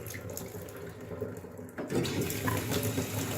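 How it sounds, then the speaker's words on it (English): A hot tap turned on full flow, water suddenly surging loud and steady into a sink after a quieter hiss, continuing as a constant rushing stream. "you just turn the tap on flat out"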